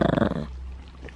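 A dog in bed lets out a short, close, rumbling growl in rapid pulses lasting about half a second, then falls quiet.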